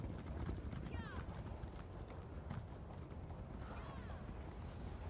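Horse hooves clip-clop in a fast, steady rhythm inside a video game, faint and continuous, with a voice talking over them.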